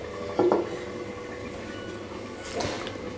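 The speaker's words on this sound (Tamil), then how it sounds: "இப்போ கொஞ்ச நேரம் இதை வந்து ஒரு மூடி போட்டு மூடி வச்சிடலாம்" A lid set down on a pot of Chettinad crab masala simmering in coconut milk, giving a short metallic clatter near the start and another softer knock later over a steady kitchen hum.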